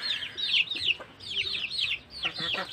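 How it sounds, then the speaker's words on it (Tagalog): Red Island chicken hens on an organic egg farm cluck in quick, repeated bursts, close by and fairly loud, with several birds overlapping and no talk. "Ito yung dalawa nating inahin."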